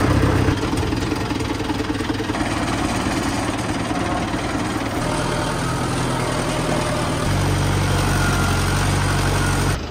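A tractor engine runs steadily at a low, throbbing idle close by, its note shifting slightly partway through, with no talking.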